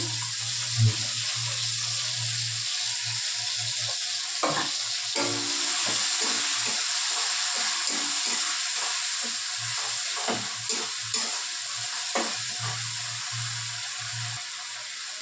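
Spiced paste of chilli, onion, coriander, turmeric, salt and cumin hits goat meat in a hot pan, giving a steady close sizzle and frying hiss broken by soft stirring clatters, with no talking.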